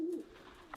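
A pigeon coos softly inside an old Tudor tithe barn, one faint low murmuring call at a distance, with no one speaking.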